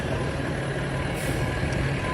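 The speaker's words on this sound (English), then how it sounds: "We'll wait for the garbage truck." A city garbage truck in Midtown Manhattan near Hudson Yards rumbles steadily nearby, its engine drone joined by a faint repeating reversing beep and street noise.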